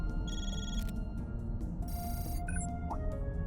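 A phone ringing in the video game Trails Through Daybreak, short electronic tones repeating over a steady bed of background game music and ambience.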